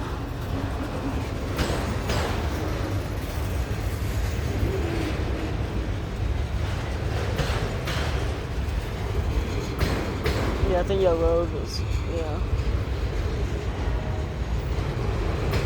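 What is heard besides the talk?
long freight train passing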